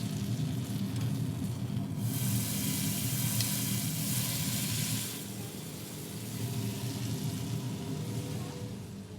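Fatty Thai pork sizzles on a grill over a low fire at a Bangkok street stall, a continuous close hiss that swells with brighter crackle for a few seconds before settling.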